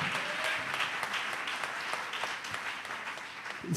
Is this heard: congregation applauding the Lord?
yes